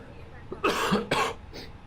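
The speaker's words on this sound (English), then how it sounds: "Sorry for the coughing, guys, but I cannot get rid of it." Two sharp, harsh coughs from a nearby man during a flight simulator session, the pair coming close together and followed by a fainter third burst, with quiet room tone around them.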